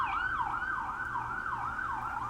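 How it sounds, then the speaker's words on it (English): An emergency vehicle siren wails past near a hospital, its rising and falling tone cycling steadily at moderate distance, alone without talk. "And I got a siren coming by"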